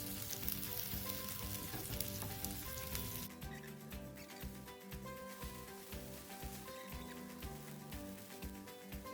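Silver biddy (paiya) fish coated in rawa sizzles steadily in a hot pan, a dense continuous crackle that drops slightly in brightness partway through and carries on with no talk.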